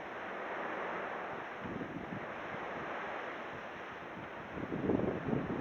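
A strong stormy wind roars steadily through a garden in Kalyani during a Kalbaishakhi-style storm, buffeting the microphone with a constant broadband rush that swells briefly near the end.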